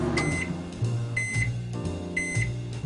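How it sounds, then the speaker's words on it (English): A microwave beeps in a repeating pattern of short tones with pauses between, alongside a low hum, no one speaking. "when the timer's done, what does it do? Beep beep, just to let you know the food's done"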